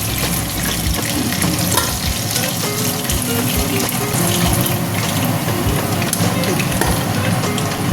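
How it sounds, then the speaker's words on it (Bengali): Chicken frying in a pan, a dense, continuous crackling sizzle with running-water-like hiss and occasional stirring sounds, loud and close. "আমি চিকেনটা ভাজতে ভাজতেই চিকেনটাকে সিদ্ধ করে ফেলবো"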